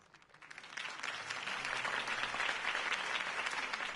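A crowd applauds a campaign speech by Harvey Dent in Batman Arkham Knight, swelling quickly from a soft start into dense, sustained clapping that holds at full strength to the end.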